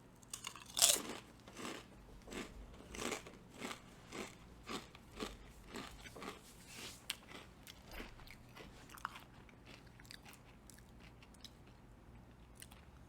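Pulled pork flavored Clancy's potato chips crunch loudly and close, with a sharp first bite followed by a steady rhythm of about a dozen chewing crunches that fade into softer munching.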